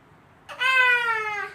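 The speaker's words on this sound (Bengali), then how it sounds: "এখানে একটা এই যে ফুসকি ক্যাট বসেও মোরগ দেখতেছে" A single cat meows once, a clear, drawn-out, close call that rises then slowly falls, alone over a quiet background.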